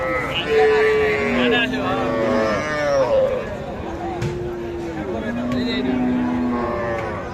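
Cattle at a busy rural livestock market in Ranigonj, Dinajpur, including young calves, moo repeatedly in long drawn-out lowing calls. Crowd chatter and people talking carry on under and between the calls.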